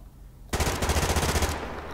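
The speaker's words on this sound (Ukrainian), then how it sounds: "Звідки стріляють, не зрозуміло." A rapid automatic burst of gunfire in the online shooter Survarium begins abruptly after a short quiet lead-in, rattling loud and close for about a second before tailing off.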